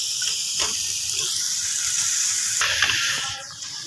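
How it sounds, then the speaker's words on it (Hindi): Potatoes go into a hot pan with browned onion, ginger and garlic and set off a loud, steady sizzle that flares up partway through before easing slightly. "अब इसको हम डालेंगे आलू।"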